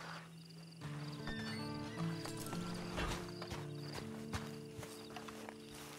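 Horse hooves clip-clop at a walk with a whinny in Red Dead Redemption 2, the in-game sounds layered over a steady ambient background, with no speech.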